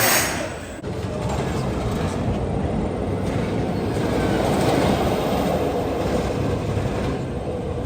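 Fire Runner, a single-rail roller coaster at Lost Island theme park in Iowa, rumbles along its track as a steady, loud, continuous roar with a brief dip near the start, a person speaking faintly beneath it.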